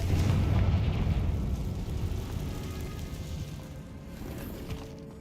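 A Confringo spell explosion in Hogwarts Legacy, a loud low rumbling blast that swells at the start and slowly decays into a long fading roar, no voices heard.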